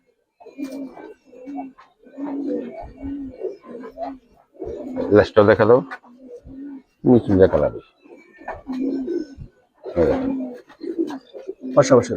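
A pair of Indian Kaldam pigeons coos in repeated low rolling phrases close by, while someone talks loudly over and between the calls.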